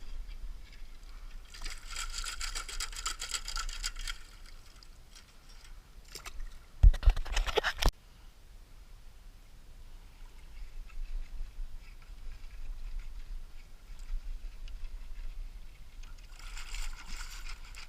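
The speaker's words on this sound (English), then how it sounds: "It even sounds like it as the clams hit the rake." Clams rattle and clatter in bursts against a metal shellfish rake, with a loud jostling shake in the middle, surrounded by quieter sloshing and outdoor background.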